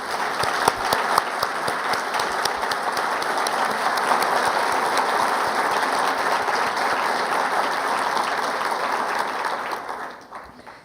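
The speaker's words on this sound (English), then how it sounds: "Please stand to be recognized and give them a round of applause." An audience at an annual meeting gives a sustained round of applause with dense, steady clapping that swells slightly midway and then fades out near the end.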